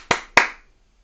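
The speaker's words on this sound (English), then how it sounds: "I'll just clap" Two sharp hand claps ring out close and clear, spaced about a quarter second apart, with a brief decay and silence afterward.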